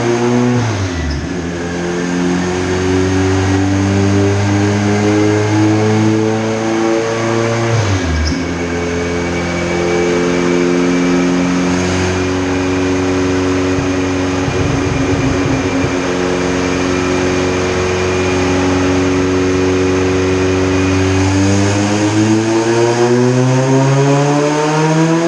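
A distributor-ignition car engine making about 475 horsepower revs hard and then launches, its loud, close roar climbing steadily in pitch through the gears with a brief dip between shifts.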